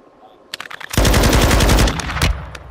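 Rapid automatic gunfire in a video game, a few sharp single shots followed by a loud sustained burst lasting about a second, then a final crack, heard up close.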